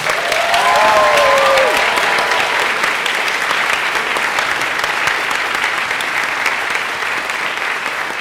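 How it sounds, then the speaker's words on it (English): An audience at a school senior banquet applauds the senior moms, loud continuous clapping filling the room, with a brief whistle-like tone early on. "So give them a round of applause"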